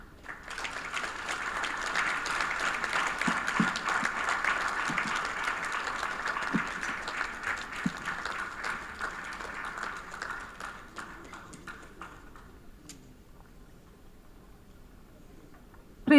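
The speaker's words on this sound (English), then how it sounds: "Please, once again, a round of applause for Richard" An audience applauds Google Vice President Richard Gingras after his address to Nigerian journalists. The dense clapping runs steadily for about ten seconds, then thins and fades into a quiet room with a few scattered claps.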